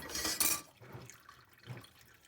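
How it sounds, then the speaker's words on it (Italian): Mussel cooking water is poured through a strainer, giving a short splashing gush at the start and then fainter trickles and drips. "adesso non faccio altro che prendere l'acqua che hanno lasciato e la colo per perdere tutti i residui di sabbia"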